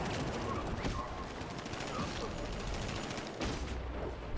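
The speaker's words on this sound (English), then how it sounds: "Stop fucking firing that gun." Rapid bursts of gunfire in the Batman Arkham Knight video game rattle continuously at moderate loudness, mixed with game sound effects.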